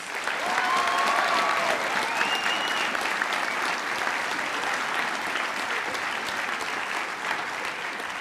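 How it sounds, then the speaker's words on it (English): Sustained applause from an audience at a school award ceremony honouring award winners, a dense, steady wash of clapping throughout with no talk over it. "Please, a round of applause to all the award winners."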